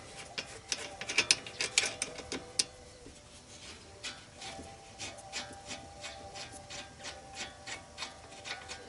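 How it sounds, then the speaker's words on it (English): A wrench works loose the 14 mm rear brake bolts on a Dodge Dart, a quick burst of ratchet clicks followed by steady, evenly spaced clicking strokes, close and fairly quiet with no talking. "these are held on the 14 mil bolts. Get them both broken loose."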